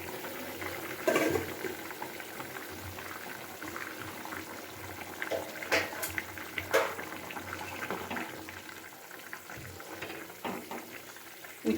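Bitter gourd and potato curry broth simmering uncovered in a pot, a steady soft bubbling with occasional louder pops and spits, close and alone without talk.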